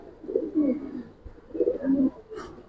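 Giribaz and coloring pigeons coo close by in two soft, throaty rolling phrases, with a faint chirp near the end.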